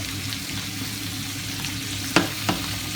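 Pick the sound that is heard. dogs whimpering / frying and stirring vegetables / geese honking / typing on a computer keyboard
frying and stirring vegetables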